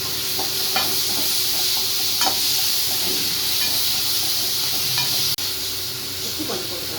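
Chopped onion and tomato sizzling and hissing steadily in a hot pan with curry leaves, a continuous loud fry broken by occasional stirring scrapes and one sharp clink of a utensil.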